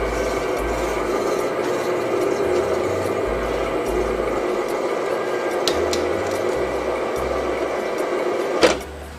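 A motorized retractable Panorama screen winds upward with a steady, even motor hum and faint rubbing, then stops at its upper limit with a small click near the end.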